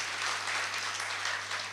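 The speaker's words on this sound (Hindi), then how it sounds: "एक बार जोरदार तालियां चाहूंगा उन सभी के लिए।" An audience at a direct-selling success seminar claps for a group of achievers. The applause is dense and continuous at moderate loudness and eases off slightly at the end, with a low steady hum underneath.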